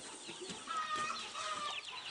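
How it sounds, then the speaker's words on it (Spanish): Chicks and chickens cluck and peep close by in a brief, busy burst of chirping and clucking at a monastery farm in Wote, Kenya, with no talk. "Los pollitos que se escapan de la jaula."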